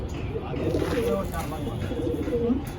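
Tippler pigeon in a loft, soft low cooing close by and repeated through the moment, with people talking over it.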